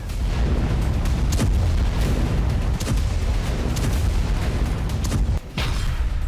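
Heavy, continuous rumbling booms and blasts from missile and drone strikes on Kyiv roll on without pause, loud and dense, with sharp cracks scattered through the noise.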